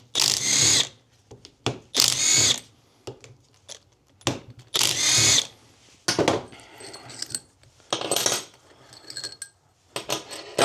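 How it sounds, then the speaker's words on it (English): Power tool bursts loosening the four bolts on a Mini SCL850 pump at a workbench: several loud, close whirring runs separated by pauses, with metallic clinks and rattles of parts between them. "All you need to do is take these 4 bolts out, as far as I know."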